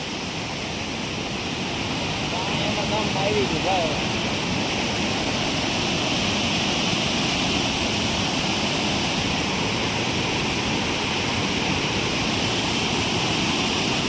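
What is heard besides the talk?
water pouring over overflowing dam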